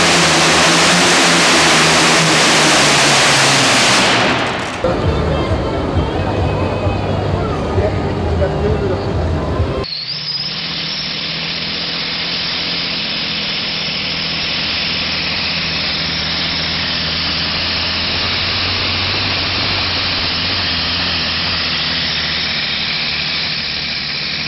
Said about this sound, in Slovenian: Dvakrat po 28 litrov motor, 28 kubikov motor, dvakrat, 4500 konov.